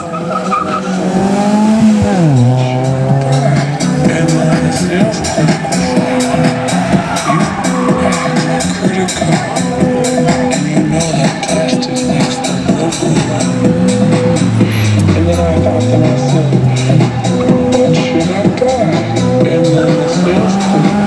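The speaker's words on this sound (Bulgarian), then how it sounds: "ще въртят гуми, имат още по мотора над 3000 конски сили" Hyundai i20 R1 rally car at an Extreme Fest show in Sofia, engine revving hard with continuous loud tire squeal and skidding as it spins its wheels, pitch rising and falling through repeated revs with a faint crowd underneath.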